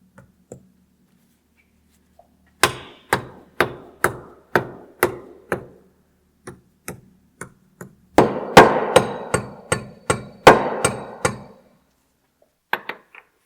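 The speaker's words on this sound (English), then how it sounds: "we're going to use this dead blow hammer once we got it lined up in there to get this thing popped up" Dull, solid dead blow hammer blows strike in steady rhythmic bursts while seating a dogbone mount insert on a VW MK7.5 GTI, a run of evenly spaced hits, a pause, then a faster louder flurry and a couple of final taps.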